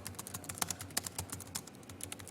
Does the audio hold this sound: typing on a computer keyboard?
yes